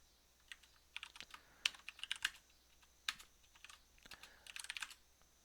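Typing on a computer keyboard up close: quiet, irregular clusters of crisp key clicks, some quick runs and some lone taps, with brief pauses in between and no talking.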